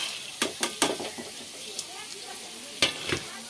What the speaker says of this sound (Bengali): বাদাম দিয়ে আর একটু নেড়ে নেবো